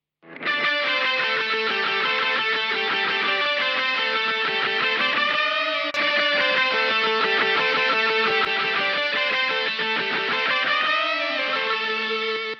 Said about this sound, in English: this is just a nice fun spring reverb, which it sounds really cool.